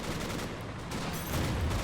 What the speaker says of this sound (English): Putting some burst fire salvos on the German troops down below, killing them.